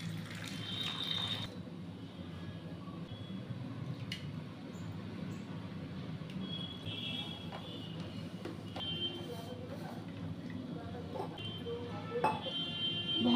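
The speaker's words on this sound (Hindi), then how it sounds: "अब थोड़ा थोड़ा पानी डाल के इसको गूंदें" Water trickles and splashes faintly from a tap while dough for gujiya is being kneaded in a kitchen, a quiet steady wash with a few soft clinks, and a voice occasionally murmurs.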